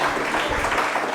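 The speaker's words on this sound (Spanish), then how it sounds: "Aplauda la palabra." A church congregation applauds during a Spanish-language sermon, a loud, continuous wash of clapping with no separate claps standing out.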